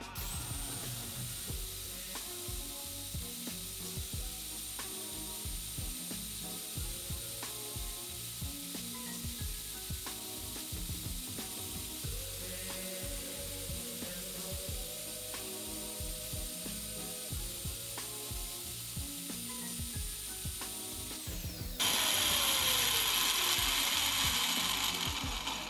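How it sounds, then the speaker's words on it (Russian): Drill bit milling wood on a Chinese coordinate table, a quiet steady whine with rhythmic grinding and clicking over about twenty seconds, then a harsher, louder burst near the end. "Так что попробуем фрезануть дерево."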